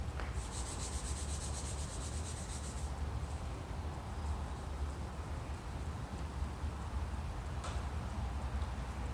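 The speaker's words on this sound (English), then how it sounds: "You can hear the difference of the paint before clay bar and after clay bar." A clay bar rubs over Porsche 996 paint with a continuous, close, gritty hiss, like light sanding. It carries on steadily throughout.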